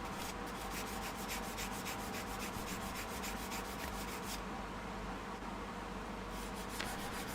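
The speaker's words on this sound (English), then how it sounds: "that's me sanding, mate" Steady back-and-forth scraping of sandpaper rubbing by hand on a Horus Heresy miniature model, close up and fairly quiet, with a continuous raspy rhythm.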